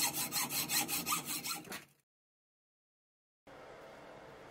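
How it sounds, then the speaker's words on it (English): A hacksaw cuts a piston off metal stock in rapid, regular back-and-forth rasping strokes, loud and close, stopping at about two seconds before silence and then a faint room hiss. "in the end I just resorted to the hacksaw."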